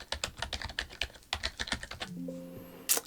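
Quick bursts of close-up computer keyboard typing as a search query is entered, rapid clustered keystrokes with a brief pause, then a soft electronic tone at the end.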